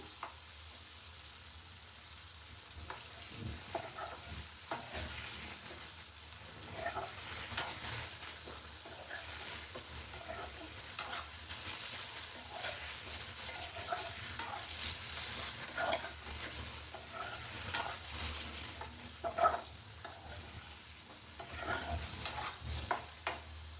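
Vegetable noodles with capsicum are stir-fried in a pan, giving a steady, close sizzle throughout. Scraping and tossing sounds from the stirring recur over the sizzle, and no one speaks.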